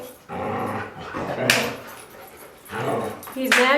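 A dog whimpers and gives a few short yips and barks in two bursts, close and fairly loud, with a person's voice mixed in.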